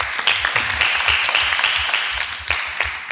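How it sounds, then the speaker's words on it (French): A small audience claps together, a dense steady patter of hands at moderate loudness lasting a few seconds. "Applaudissez-la, s'il vous plaît."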